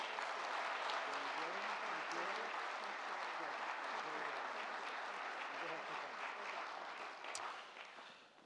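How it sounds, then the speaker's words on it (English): An audience at a military college ceremony applauds in a dense, steady burst of clapping that fades toward the end, with no voices over it. "If everybody would like to give her one more round of applause."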